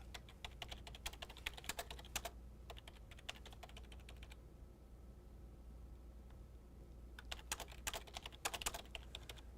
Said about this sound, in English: I really am typing right now.